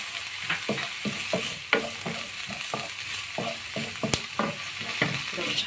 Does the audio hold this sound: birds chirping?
no